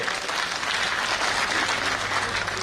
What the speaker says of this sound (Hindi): एक बार जोरदार तालियां हो जाए हमारे नवीन पालीवाल जी के लिए